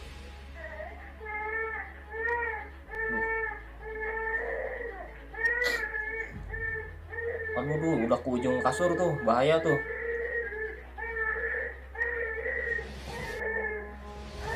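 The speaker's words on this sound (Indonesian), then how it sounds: "Ini kasihan kalau misalkan bayi sampai nangisnya tuh kayak gini." Loud, urgent wailing from a baby, with harmonic cries repeating in rhythm across the whole stretch and growing more intense toward the middle, while adults talk over it nearby.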